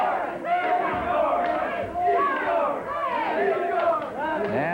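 A wrestling crowd in Vancouver roars and cheers steadily throughout during a match between Mighty Igor and Moose Morowski, a dense wall of yelling voices with a commentator's voice mixed in.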